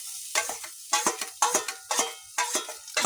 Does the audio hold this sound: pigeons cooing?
no